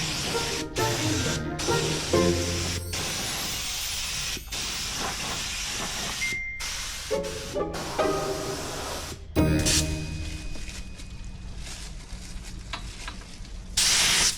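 Paint spraying onto a Belgian luxury barge in fine weather, a steady close hiss broken by short pauses and abrupt restarts, with one louder burst of spray partway through.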